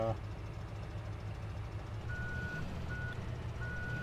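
Reversing beeps from a vehicle in the Farming Simulator 17 video game, a short run of steady high-pitched tones that start partway through and repeat over a constant low engine drone while someone talks.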